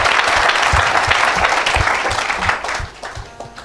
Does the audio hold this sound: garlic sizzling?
no